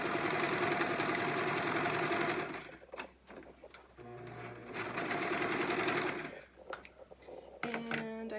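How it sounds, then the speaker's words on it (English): Serger machine stitching fabric just above a garment's binding, a loud continuous mechanical whir that runs for several seconds, stops briefly, resumes, then halts near the end. "I'm going to serge it just because that's my preference."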